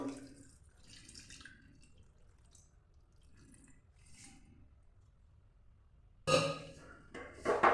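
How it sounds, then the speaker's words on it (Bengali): Water is poured into a pan of fish curry with potatoes, onions, mustard oil and turmeric, a sudden loud splashing rush near the end after quiet, faint kitchen rustling. "এবার দিয়ে দিচ্ছি পরিমাণ মতো জল"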